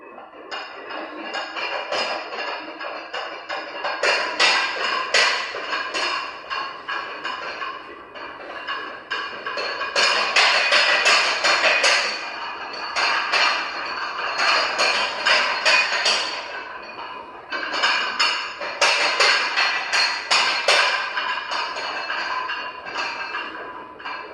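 Weight plates, including 2.5s, rattle and clank on a Titan Fitness Y dip bar mounted on a garage-gym power rack during a set of dips, a continuous close metallic jangle that surges in rhythmic waves with each rep.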